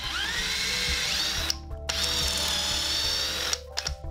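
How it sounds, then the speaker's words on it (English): A power drill with a small bit bores a pilot hole into wood, a steady whirring whine broken by two brief pauses between passes, close and clear with no talking. "I'll start with a pilot hole using a small drill bit, and that helps guide the larger drill"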